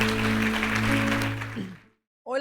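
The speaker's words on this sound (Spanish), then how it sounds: "Den un aplauso al Señor." A church congregation claps for about two seconds after a sermon's closing prayer, a dense burst that fades into silence before a voice begins speaking.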